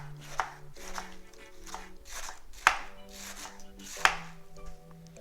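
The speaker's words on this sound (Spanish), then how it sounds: "Picamos muy delgadita nuestra lechuga." Knife chopping lettuce thinly for Mexican salbutes or panuchos, a series of crisp cutting strokes with several sharper chops standing out, close by, over a steady low hum and no talk.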